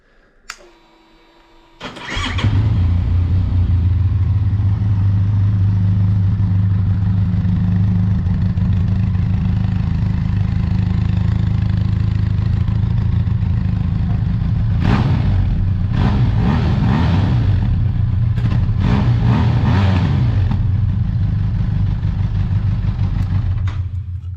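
A motorcycle on Mitas E07+ tyres starts up and settles into a loud, steady exhaust rumble close by, with sharp throttle blips and revs about two thirds of the way in.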